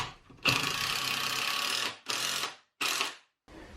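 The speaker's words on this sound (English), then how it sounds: "Now I'm just going to come back in here and add all of the screws until it's totally locked down." A power driver sinks screws into large shop shelving in several bursts: one long whirring run followed by three shorter spurts separated by brief silences, close and loud.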